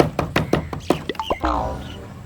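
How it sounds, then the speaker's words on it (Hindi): Loud, rapid knocking on a door, a run of four or five hard raps followed by a few softer irregular taps, close and alone. "कौन बेवकूफ है इतना जोर से दरवाजा खटखटा रहा है?"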